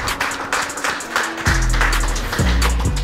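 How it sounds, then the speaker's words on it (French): Crowd applause with scattered claps, loud and steady, joined partway through by a deep musical bass underneath. "Bravo, on l'applaudit."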